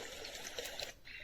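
A HOMGEN white noise machine plays its brook setting, a soft, continuous babbling trickle of running water at low volume lasting about a second.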